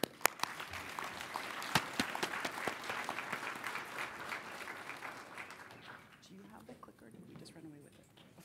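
A conference audience applauds to welcome a speaker to the podium, steady clapping from many hands that fades out near the end as a voice begins speaking.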